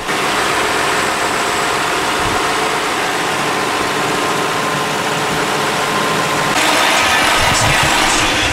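A Lexus LS430 engine idles steadily and smoothly after timing belt and water pump maintenance, a constant low hum with faint vibration, close by and uninterrupted by talk.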